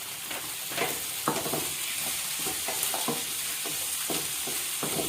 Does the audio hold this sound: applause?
no